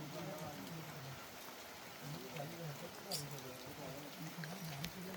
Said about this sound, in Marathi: पाऊस एकदम जोरात आला.